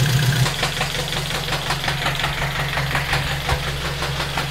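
An idling 2006 Saturn Ion engine with a top-end fault rumbles with a rapid, regular ticking knock over its drone, close and fairly loud, with no speech.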